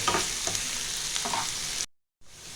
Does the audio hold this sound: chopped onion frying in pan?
yes